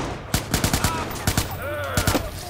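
Rapid gunfire bursts from the video game Watch Dogs crack in quick clusters, close and loud, with short gaps between volleys and faint game ambience underneath.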